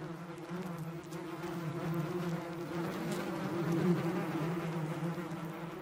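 A group of bees marked with paint dots takes flight after release in an experiment near a hive, producing a steady, fairly loud layered buzzing drone that swells slightly over several seconds.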